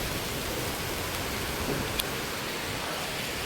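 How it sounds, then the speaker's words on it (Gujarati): Heavy monsoon rain pours onto a flat rooftop terrace in a dense, steady hiss that stays loud and even throughout, with no talking. "જો વરસાદ આવે છે, એટલો બધો વરસાદ આવે."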